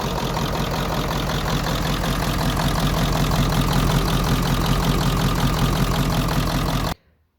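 A Ford 7.3L Powerstroke diesel idling after its fuel system was primed, a loud, steady knocking clatter that runs evenly for about seven seconds and then stops abruptly.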